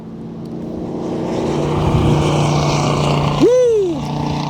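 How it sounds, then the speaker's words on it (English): A 1967 Ford Mustang with dual exhaust rumbles past outdoors in wind, a deep steady engine drone building to a loud peak with a rising-then-falling swoosh as it passes close. "Man, that sounds good. Nice deep rumble. Dual exhaust is awfully nice to have."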